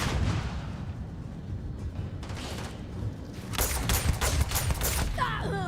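Grenades explode in the video game Starfield, a low rumbling background giving way to a cluster of sharp, loud blasts and booming bursts near the end, with a faint mechanical creak.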